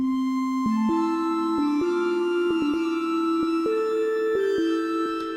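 A wet, shimmering synth lead, the reverb layer of a Sytrus 16 patch, has a long reverb tail and plays a slow stepwise melody, each note sustained and smeared into the next.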